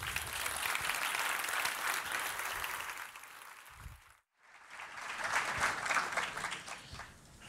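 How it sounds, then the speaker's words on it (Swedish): Audience applause in a conference hall greets the Swedish defence minister, a dense steady clapping that briefly stops near the middle and then swells again, with no talking over it. "Ge honom en applåd, han kan behöva det."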